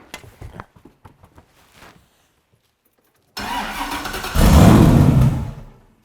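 A twin-turbo V8-swapped Porsche 911 cranks with a few short starter bursts, falls silent, then fires up with a rising roar that swells louder as it revs before easing off, close and loud.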